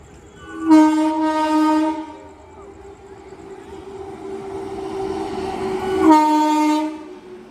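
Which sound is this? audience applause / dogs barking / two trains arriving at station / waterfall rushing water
two trains arriving at station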